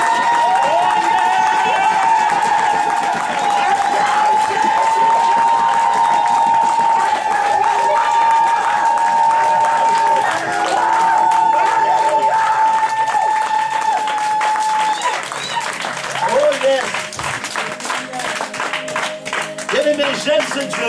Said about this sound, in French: Est-ce que tu peux acclamer fortement le roi des rois ce soir?